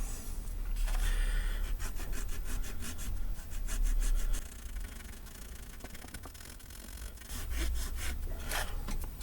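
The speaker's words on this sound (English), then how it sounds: "I'm pressing quite firmly because I want to give it a scrub." A muddy coin is scrubbed firmly with a finger, giving a close, repetitive rasping rub that rises and falls in strokes, heavier in places, with no talking.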